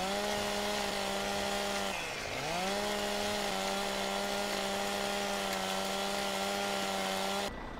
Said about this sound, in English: we'll hop on our chainsaw. And I think we'll kind of cut these up now.